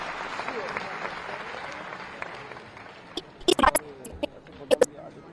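An audience at a Hindu religious gathering and cultural conference in Raipur applauds, sustained clapping from a crowd at moderate distance, followed by a few sharp louder claps near the end.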